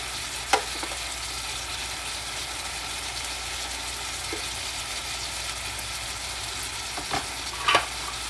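Okra and tofu stir-frying in a pan with a soft, even sizzle throughout, broken by a few brief scrapes of stirring near the start and toward the end, close by and fairly quiet.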